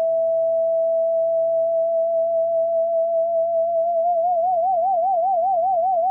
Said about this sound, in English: as I go up, you'll hear this frequency LFO add to this note